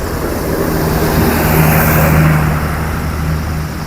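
A Transkoter bus pulls in at an Aceh bus terminal at night, its engine a steady low rumble that swells slightly mid-way and stays close and continuous, with no voices over it.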